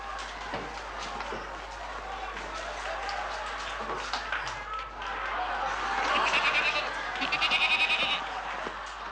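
Goat bleating in the background of a 1969 Western scene, with a few wavering cries that rise toward the end amid ambient noise.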